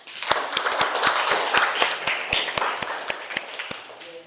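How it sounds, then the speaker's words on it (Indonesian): A small group clapping in a university informatics class, a sparse run of distinct claps with individual hand strikes audible, moderately close and fading out toward the end. "Berikan tepuk tangan semuanya."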